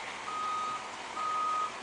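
Reversing beeps sound twice, each about half a second long, from a cement truck working on a house foundation and floor construction site, over a steady hum of engine and site noise.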